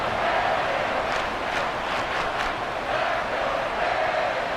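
Football stadium crowd at a 49ers versus Dolphins game roaring in a continuous wash of cheering, with a few rising whoops and yells swelling through the middle, loud and sustained throughout.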